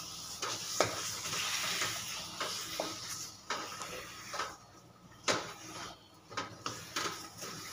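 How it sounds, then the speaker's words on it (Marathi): Khoa (mawa) roasting in a pan over medium heat, stirred steadily; a soft close sizzle broken by repeated scraping and tapping strokes of the spoon, quieter in short gaps. "खवा आपण व्यवस्थित परतून घेणार आहोत साखर टाकून"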